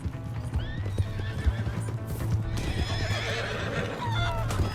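Horse in Red Dead Redemption 2 gallops with rapid, rhythmic clip-clop hoofbeats close by and lets out whinnies, with shouting and other background game sounds mixed in.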